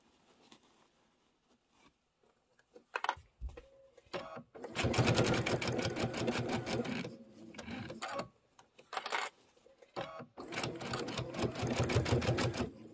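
Sewing machine stitching pillow blocks together for a bench pillow, two loud bursts of rapid stitching separated by short pauses with faint handling noises.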